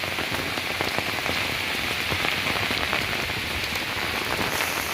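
Heavy rain pounding steadily on a hard surface, a dense, constant patter of countless drops with no pauses.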